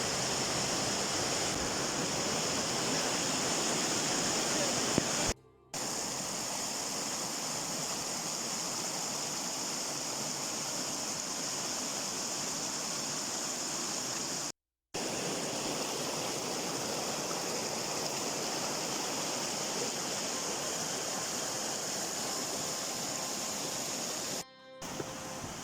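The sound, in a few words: Hebbe waterfalls, Chikkamagaluru, flowing water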